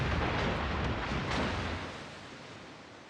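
Naval guns fire in World of Warships, a dense rumbling roar of shots that fades steadily into a low tail, no voices.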